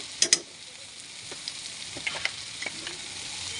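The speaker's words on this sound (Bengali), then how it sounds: "এখন আমি এটাকে ভালো করে ভেজে নিচ্ছি" Chopped garlic frying in a pan for a dried fish (shutki) dish gives a steady, soft sizzle, with a couple of sharp utensil clinks near the start.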